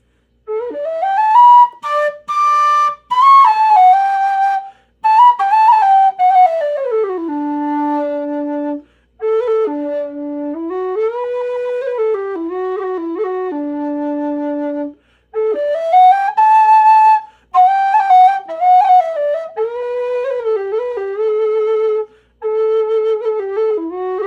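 A newly designed metal low whistle plays a solo melody with sustained notes across its lower octave, moving in phrases with short pauses between them, loud and close with no voices.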